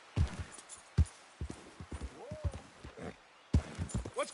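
Horse hooves clip-clop at a gallop in Red Dead Redemption 2, a quick uneven run of thuds with a short whinny-like tone midway, close and fairly loud.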